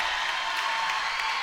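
A crowd cheers and applauds at a high school volleyball match between McFarland and Edgerton, a steady, dense roar of clapping and voices filling the gym throughout.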